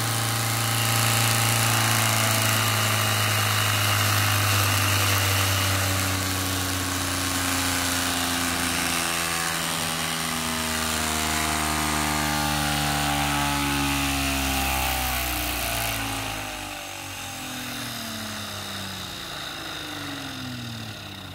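A Bedini motor generator wheel spins up to speed, a steady loud whirring drone whose pitch climbs and shifts as it accelerates, with no talking over it.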